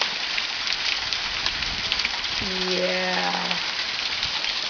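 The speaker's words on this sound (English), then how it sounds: "But no, it's hailing." Hail of pea-sized ice pieces falls during a July summer storm in Germany, a dense, steady hiss-like patter throughout; a person speaks a single short word partway through.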